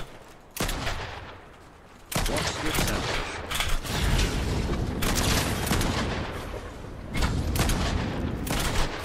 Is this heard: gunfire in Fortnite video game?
yes